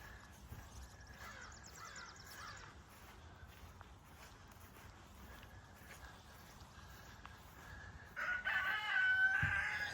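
A rooster crows in the distance near the end, after a stretch of quiet outdoor ambience with faint birds.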